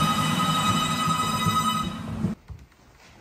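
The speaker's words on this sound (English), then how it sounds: "It just said that it made the phone ring." A telephone rings continuously with a bright, steady electronic tone, loud and close, then cuts off abruptly, leaving faint room noise.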